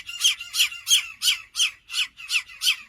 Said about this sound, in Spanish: Están un poco gritonas tus gaviotas